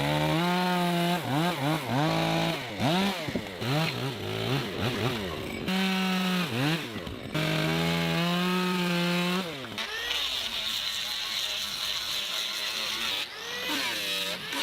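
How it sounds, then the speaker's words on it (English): Extra roof logs for a handbuilt wooden house are cut with a motorized saw, its loud whining engine rising and falling in repeated strokes up close, with a rougher grinding stretch of cutting toward the end. "The extra roof logs are being precisely cut and finished so the edges and wood design look cleaner"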